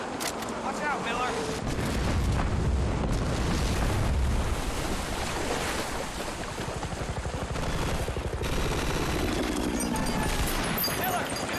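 Mortar strike explosions and gunfire in Battlefield: Bad Company shake a dense, loud battlefield soundscape of continuous booms and shots, with voices calling out throughout.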